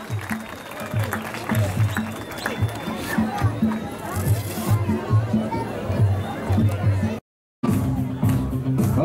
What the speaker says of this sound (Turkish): İki sporcumuzu alkışlayalım.